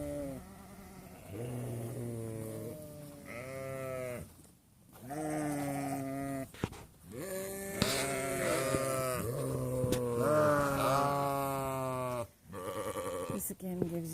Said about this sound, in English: Just coming over to the other group of sheep again.